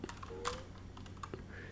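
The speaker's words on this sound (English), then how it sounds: "just hit enter on your keyboard" Keys pressed on a computer keyboard, with a few sparse, close clicks and taps at irregular intervals over a quiet background hum.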